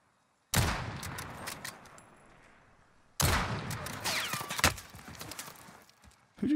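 Gunfire in the Call of Duty video game comes as two sharp, loud bursts a few seconds apart, each trailing into a ringing decay, with quieter clatter between them.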